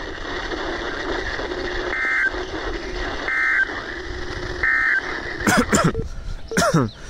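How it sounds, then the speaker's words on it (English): A NOAA Weather Radio warning device test: a buzzing alarm tone repeating in three regular bursts over a steady background hum, followed by two short sweeping warbles, with a faint voice in the background. "this is a test of the NOAA Weather Radio's warning device"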